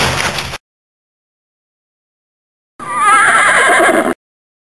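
A horse whinnies loudly and close, a short burst followed after a pause of silence by a longer, shrill neigh that wavers and trails off.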